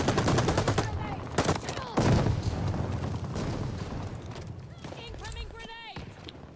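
Rapid bursts of gunfire in the Call of Duty Vanguard multiplayer shooter, sharp cracks crowding together over the first few seconds and recurring later, with players' voices talking over the action.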